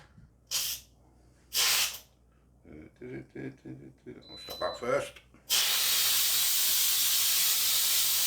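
Loud, continuous steam hiss from a pressure cooker's quick release bursts out and keeps roaring after some brief spoken words and a few short hissing puffs.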